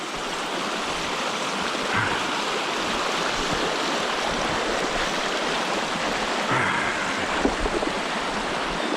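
River water rushes steadily through a rough stretch during salmon season, a loud continuous broadband flow with no voices.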